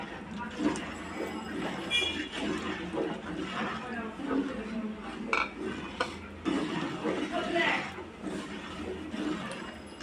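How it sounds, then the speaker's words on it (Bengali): Thickening chicken soup stirred continuously in a pot to keep it from sticking: repeated scraping and clinking of a utensil against metal, close and moderately loud, with a person talking alongside. "দিতে হবে আর নাড়তে হবে, নয়তো নিচে লেগে যেতে পারে।"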